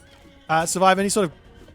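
A horse from a cavalry unit in a strategy video game gives a loud, close whinny lasting under a second, rising and falling in pitch over a faint quiet background.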